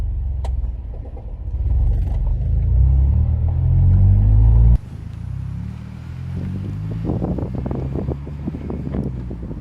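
An Acura TSX pulls away as the clutch is released, with a low engine rumble that swells under acceleration, then an abrupt cut and a calmer rolling drone mixed with wind noise.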